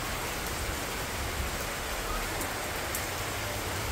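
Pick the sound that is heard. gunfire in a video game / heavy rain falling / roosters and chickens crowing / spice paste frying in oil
heavy rain falling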